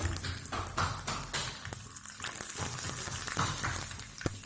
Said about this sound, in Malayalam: കടുക് ഇട്ട് കൊടുക്കുക പിന്നെ ഉഴുന്ന് പരിപ്പ് ഇട്ട് കൊടുക്കുക